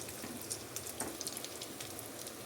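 Chicken keema cutlets fry in a small amount of oil, giving a faint, soft sizzle with scattered light crackles and pops throughout.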